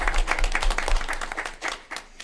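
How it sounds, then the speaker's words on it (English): An audience at a school board meeting breaks into applause, a burst of brisk clapping that thins and trails off into a few scattered claps within about two seconds. "Just give that a round of applause"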